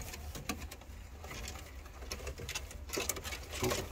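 Many pigeons of different breeds at a pigeon breeding loft fill the air with soft, continuous cooing, wing flutters and scattered patter close by, with no talk.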